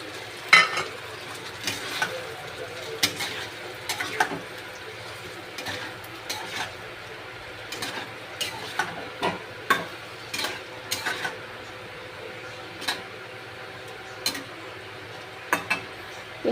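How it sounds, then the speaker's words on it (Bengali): Tomato paste sizzles in a pan for butter chicken while a spoon stirs it, giving a steady low fry hiss broken by frequent sharp scraping clicks against the pan. The sound is close and moderate, with no voices. "প্রায় কিছুক্ষণ কষার পরে এবার আমি টমেটো পেস্টটা দিয়ে দেব।"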